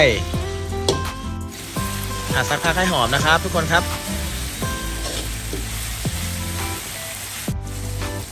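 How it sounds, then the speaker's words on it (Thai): Chili and garlic sizzle and fry in a hot pan for a Thai drunken noodle dish, a steady close crackle with clinks of stirring, while someone talks over it. "ตั้งกระทะครับ ใส่พริกกระเทียมของเราลงไป"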